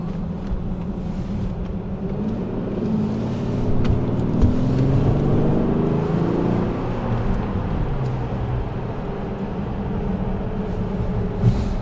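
A twin-turbo 600 hp V12 Bentley GTC Speed takes a short throttle pull on a street, its deep engine drone swelling smoothly from inside the cabin before easing back to a steady hum.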